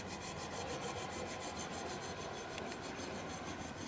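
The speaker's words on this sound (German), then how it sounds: "Und nach einer halben Stunde feilen sieht man da unten schon zumindest schon mal den Ansatz einer Nut." A hand file rasps continuously at close range, cutting a groove into a metal part of a Lofrans anchor windlass held in a vise.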